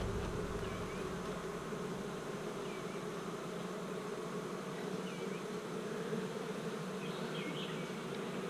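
Steady, dense buzzing of many honeybees at a hive hums continuously at close range, with a few faint chirps from birds in the background.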